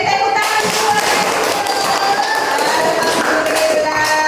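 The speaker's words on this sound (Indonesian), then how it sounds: "Beri tepuk tangan semua." Schoolchildren in an Indonesian classroom clap together in a steady, dense burst of applause that stays loud and fills the whole stretch, with no speech over it.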